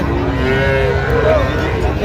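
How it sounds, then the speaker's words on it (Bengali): At a Narayanganj cattle market selling Friesian and cross-breed bulls, a single loud, close cow moo rolls out over a couple of seconds above a murmuring crowd. "আমাদের বিক্রি হচ্ছে গরুটি"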